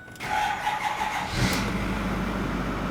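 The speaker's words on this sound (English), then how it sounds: "Now let's turn the truck on, turn the ignition to the on position, wait for the glow plugs to cycle" A 2008-2010 Ford F-250 with the 6.4L diesel engine cranks and fires up after the glow plugs cycle, settling into a loud, steady close idle rumble.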